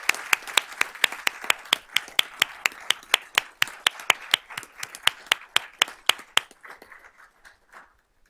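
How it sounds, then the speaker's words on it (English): A small group claps for students at a school board of trustees meeting, with sharp individual hand claps in a quick, uneven rhythm that gradually thins out and fades to silence. "let's give all of these students a round of applause"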